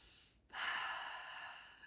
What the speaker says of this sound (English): we just practice on breathing in through the nose, out through the mouth